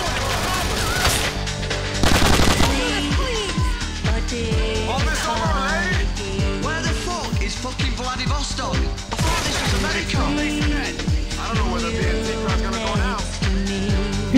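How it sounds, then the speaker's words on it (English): Rapid automatic gunfire bursts in Grand Theft Auto 4: The Ballad of Gay Tony, with dense rattling volleys and a heavy crash early on, continuing throughout amid game ambience. "Who's shooting at me?"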